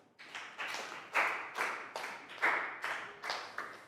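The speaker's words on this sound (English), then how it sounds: "Big round of applause for Nadia." A small group of children in a classroom claps in a loose, rhythmic pattern, about a dozen distinct bursts close by, with no talk.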